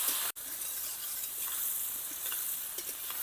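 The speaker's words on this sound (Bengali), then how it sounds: "দিয়ে হালকাভাবে ভেজে নেব।" Fesa fish seasoned with a little salt frying lightly in a pan, giving a steady, close sizzle with a brief dropout near the start and otherwise no pauses.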